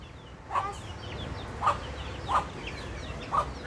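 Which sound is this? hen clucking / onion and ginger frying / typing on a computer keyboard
hen clucking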